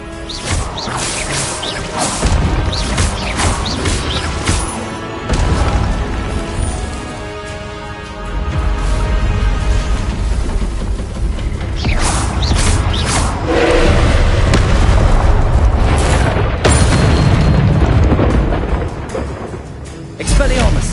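Spell casting and explosions in Hogwarts Legacy, a loud, busy stretch of crashes, booms and whooshes arriving in bursts, with speech mixed in.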